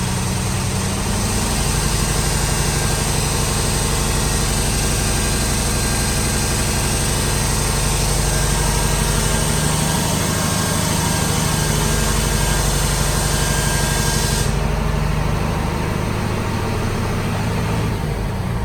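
A dump truck engine idles steadily during an in-cab pre-trip check while air pressure builds, a loud, continuous low rumble that changes slightly near the end.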